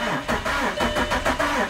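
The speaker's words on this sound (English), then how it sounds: "let's just crank the engine and listen to the engine first." Starter motor cranking a non-running car engine on a boost pack, a rapid rhythmic churn of repeated pulses that stays loud and close without catching.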